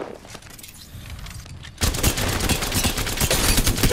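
Gunfire in a shooter video game: sparse shots at first, then a loud, dense stream of rapid automatic bursts that keeps going to the end.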